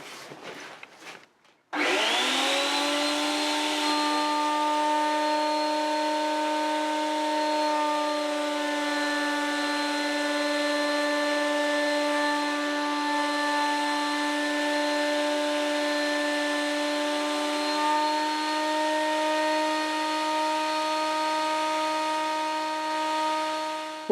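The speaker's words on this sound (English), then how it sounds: "we're gonna run this table up and put that bit of Iroko back through," A Parkside PADM1250A1 planer/thicknesser spins up after a brief rattle, then holds a loud, steady whining drone with strong tonal harmonics as Iroko wood is fed through, changing little for over twenty seconds.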